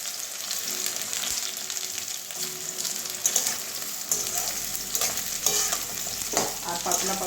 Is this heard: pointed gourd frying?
yes